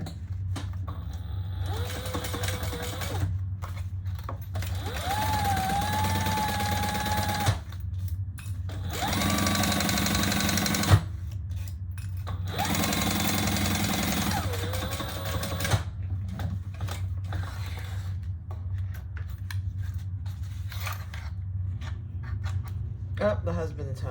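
Sewing machine basting a purple leather waist pack closed, running in several steady bursts of a few seconds each, with pauses between runs, a constant low hum throughout and a voice talking quietly in the gaps.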